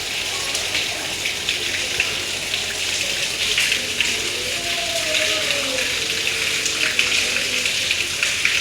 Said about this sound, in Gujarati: સાંજે સરસ મજાનો વરસાદ આવે છે